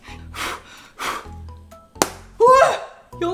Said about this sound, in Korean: 망치.